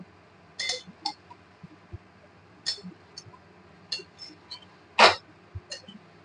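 A spoon mixing vegetables in a bowl makes a handful of sparse, faint clinks and taps against the dish over near-silence.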